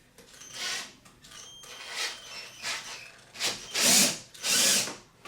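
A power drill whirs in several short bursts, each rising and falling, the last two longest and loudest, enlarging a hole in a water pipe up close.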